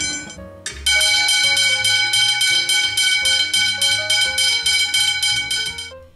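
A railway crossing bell clangs loudly in a steady, rapid rhythm, opening with a couple of quick strikes before settling into its regular ringing.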